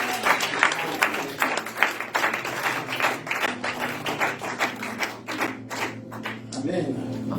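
A church congregation at a Sunday service applauds and cheers together, a dense, steady wash of clapping and crowd noise lasting throughout, with voices mixed in beneath.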